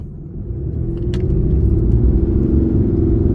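A RAM Cummins diesel truck fitted with a throttle pedal tuner in Race mode, level 9, accelerating hard. A loud, steady, close engine rumble builds over a few seconds and holds, with no voices.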